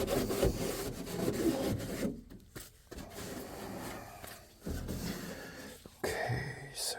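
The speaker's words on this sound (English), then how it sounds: "Just wiping it down one last time." A cloth wiping down a carbon fiber hatch opening surface, close rubbing strokes in uneven bursts separated by brief pauses, with no talk.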